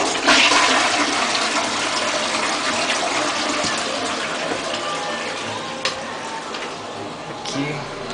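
A toilet flushes with a loud rushing gush of water that continues steadily, followed by the tank refilling, close by.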